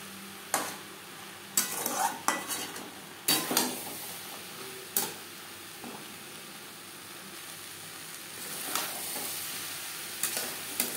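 Spoon scraping and stirring boiled potatoes and peas with spices in a hot pan, irregular clattering strokes over a low steady sizzle, close and moderately loud, no talking.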